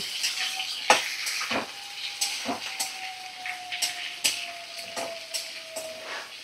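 Chopped onion frying in a pan over a medium flame, a soft sizzle broken by repeated scrapes and clinks of stirring, with a faint steady whistle running beneath.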